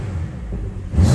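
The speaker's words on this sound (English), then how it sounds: "So in sport mode, there's a valve that opens up on the left hand or near side exhaust." A BMW M440i xDrive idles with its exhaust valve open in sport mode, a low steady rumble that swells into a sudden louder rev at the end.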